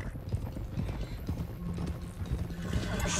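Horse hooves clopping steadily at a gallop in Red Dead Redemption 2, a continuous drumming rhythm with a brief whinny mixed in.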